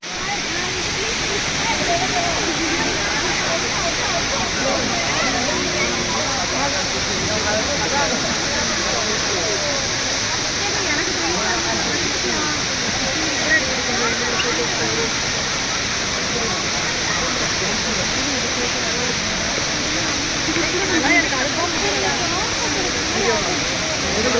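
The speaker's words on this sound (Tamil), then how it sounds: "ஜுவல் அப்படிங்கிற வாட்டர் ஃபால்ஸ் அட்டகாசமான வாட்டர் ஃபால்ஸ்" The indoor waterfall at Jewel, Changi Airport, roars as a constant broad rushing wash of falling water, steady and loud throughout with no pauses.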